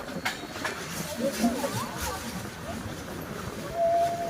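Train rumble from the Araku line winding through hill country near Vizag, a steady mid-level rolling noise with a faint whistle-like tone near the end and some broadband wind or track noise throughout.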